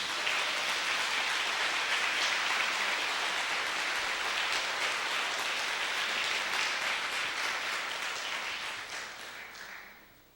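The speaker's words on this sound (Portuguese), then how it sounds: "Dê um aplauso a Jesus." A church congregation applauds for Jesus during a worship service, a dense, sustained wash of many hands clapping at steady loudness that fades out near the end.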